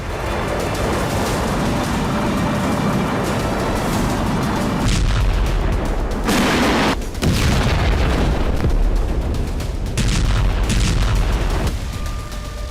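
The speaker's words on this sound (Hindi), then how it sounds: "यह तस्वीर उस वक्त की है जब यूक्रेन M142 हाइमार्स से लगातार बेलगोरोद पर हमले कर रहा था।" Heavy booming blasts and explosive rumbles from M142 HIMARS rocket attacks on Belgorod, loud and sustained, with several strong impacts standing out over a constant roar.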